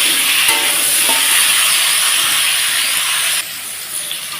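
Vegetables such as potatoes and stalks frying in oil for a pabda fish curry, giving a loud, dense, continuous close sizzle with a few stirring knocks, easing slightly toward the end, with no talk.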